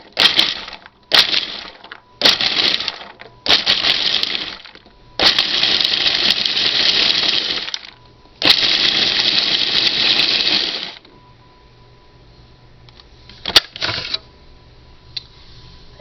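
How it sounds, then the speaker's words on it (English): A food processor chops peeled carrots in loud, close bursts: several short pulses at first, then two longer grinding runs, ending in quieter rattling and clicks as it stops. "I've got them in my food processor, and we'll pulse them a few times and give them a quick grind"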